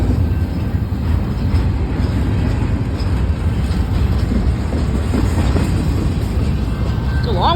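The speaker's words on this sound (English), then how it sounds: "It's a long one too. It's a long train." A long freight train rolls steadily past close by, with continuous rumble and clickety-clack of the rail cars lasting throughout and no pause.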